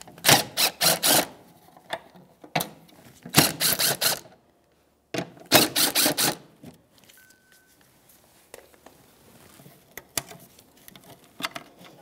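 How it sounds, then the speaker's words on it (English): A ratchet with a 10 mm socket backs out the tail light mounting bolts on a 1997-2006 Jeep Wrangler: several bursts of rapid, close clicking separated by short pauses. "Now you have 3 mounting bolts right here, 1, 2, and the third one's up here, 10 millimeter socket, and we're going to take those out."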